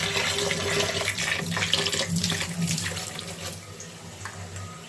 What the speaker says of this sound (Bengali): তাই ভালো করে একটু ধুয়ে নেব আলতোভাবে